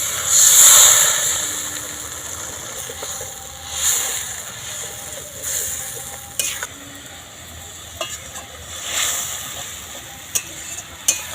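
Fish curry masala gravy with water bubbling in a pan, soft hiss and simmer with occasional stirring scrapes and clinks, fairly quiet with no talk.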